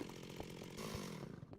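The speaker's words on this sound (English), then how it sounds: "Still like the chainsaw noise." Chainsaw in the Tekkit Classic Minecraft modpack, a steady buzzing game sound effect that runs the whole time at low level, slightly louder in the second half.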